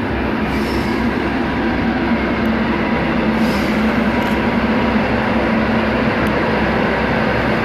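Endeavour N8 regional passenger train departing Mittagong station, heard as a steady, loud rumble of wheels and motors with faint high whines, continuous throughout without speech.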